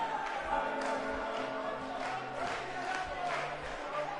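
An indoor wrestling crowd at an arena in Providence, Rhode Island, keeps up a continuous loud roar of cheering and shouting, with a few sustained tones running under the din.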